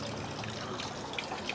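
Water trickles steadily from the spout of a washing fountain at a Japanese shrine, a faint, soft, continuous dribble heard up close with no other sounds.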